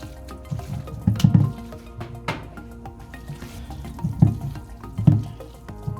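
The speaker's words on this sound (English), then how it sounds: "And if you want, you can add half cup of water." Water is added to a chicken momo filling being mixed by hand in a bowl, giving a few soft splashes and squelching sloshes at close range, without any talk.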